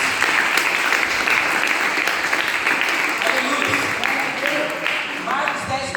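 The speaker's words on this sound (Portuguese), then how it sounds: "Você pode dar uma salva de palmas para Jesus?" Congregation at a church service clapping in sustained, dense applause that carries loudly and evenly for several seconds.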